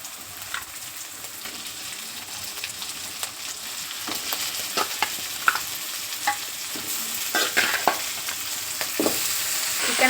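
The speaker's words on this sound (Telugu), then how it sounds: "చికెన్ యాడ్ చేసుకొని మిక్స్ చేసుకోవాలి. మంచిగా మిక్స్ చేసుకొని ఆయిల్లో కొద్దిసేపు ఉడకనివ్వాలి." Chicken fries in oil with ginger-garlic paste and spices while being mixed in a pan, a constant sizzle broken by repeated clicks and scrapes of the spoon that grow busier toward the end, with no talk.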